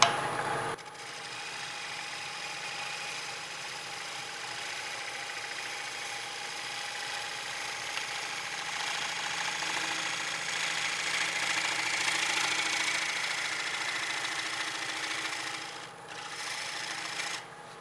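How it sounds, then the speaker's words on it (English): A wood lathe turning at about 800 RPM with a small, freshly ground bowl gouge, a steady broadband scraping rasp of the cut running nearly continuously throughout, with a brief dip near the end. "what I'm using is a small bowl gouge with a new grind on it"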